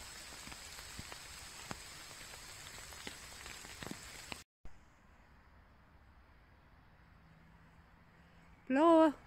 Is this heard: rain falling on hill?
yes